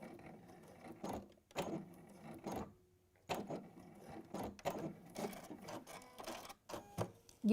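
A sewing machine stitches along a line in a series of short bursts separated by brief pauses, with soft mechanical rubbing and clicks throughout.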